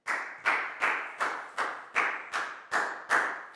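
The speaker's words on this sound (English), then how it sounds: "Big round of applause for Lackow, please, guys." A small group of schoolchildren in a classroom claps in eight slow, evenly spaced bursts, close and fairly quiet, with no voices.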